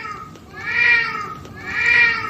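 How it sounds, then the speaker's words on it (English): A cat named Dealey gives two drawn-out, rising-and-falling meows in close succession, loud and near, with no talk over them. "With our brave attack cat, Dealey."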